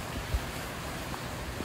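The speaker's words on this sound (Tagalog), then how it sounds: "ang lakas ng hangin" Steady roaring wind noise, broadband and continuous, with buffeting gusts against the microphone and a dull rushing of heavy rain during Typhoon Emong in La Union, 2025.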